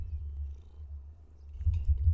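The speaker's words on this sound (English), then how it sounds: "Oh, purr for the microphone." A domestic cat purring close to a microphone, a low rhythmic rumbling that swells and fades with each breath, growing louder toward the end, with no talking.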